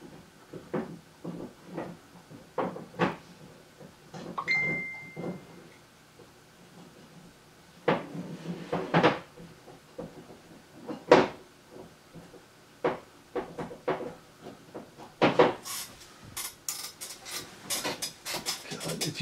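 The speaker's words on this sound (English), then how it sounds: "my dog going nuts on his bone toy" A dog gnaws on a bone toy, producing irregular bursts of sharp clicks and clacks in uneven clusters, moderately near, with quieter stretches between the bursts.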